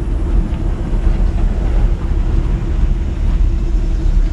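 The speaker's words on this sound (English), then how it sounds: "This little engine sounds like it just runs fantastic." A 1953 Chevrolet 3100 five-window pickup engine running on the road, a loud continuous low rumble with steady drivetrain and road roar and no talk.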